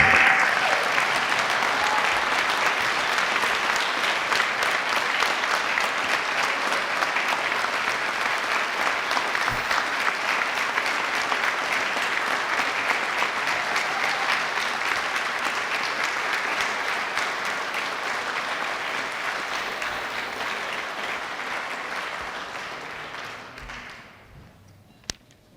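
Sustained, dense applause from a seated audience at a Hall of Fame induction ceremony, steady and full for over twenty seconds before tapering off and fading out.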